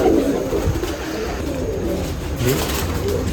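Pigeons coo softly and repeatedly at a pigeon festival in Nashik, low murmuring calls over a constant noisy outdoor background, with no voices.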